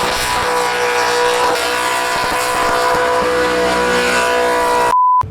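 A V8-swapped Suzuki Carry burnout car runs with a loud, steady engine drone that holds evenly throughout before cutting off abruptly near the end, with no voices.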